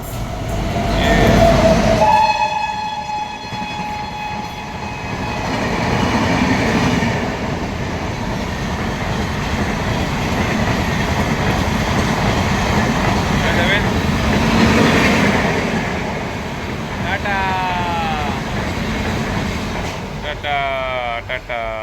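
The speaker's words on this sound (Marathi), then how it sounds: "मागे बघ ट्रेन" A train rumbles past Rajapur railway station with a horn blast near the start and a rattling clatter of wagons, loud and close, while people talk nearby on the platform.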